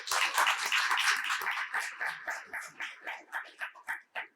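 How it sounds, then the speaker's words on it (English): Applause for the hosting family at an outdoor street renaming ceremony in Cleveland, a crowd clapping densely at first and then thinning into scattered, separate claps that fade out. "Let's give them a round of applause."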